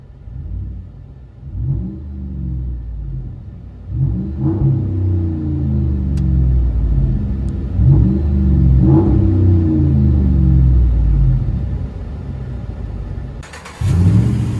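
Interior cab sound of a 2012 Dodge RAM 1500 5.7L Hemi V8 with dual exhaust, muffler delete and 5-inch tips: deep booming rumble rising and falling through several rev pulls, loud and steady, with a brief rustle near the end.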